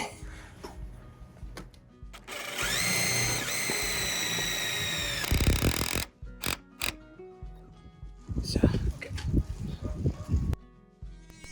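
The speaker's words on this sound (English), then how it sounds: "It is a tight space, so I use a corner impact driver and screws for steel." A corner impact driver sinks screws into a steel frame in a tight roof-edge space during renovation, giving a loud close whirring burst with rising mechanical whine, then short rattling impact bursts amid handling clatter.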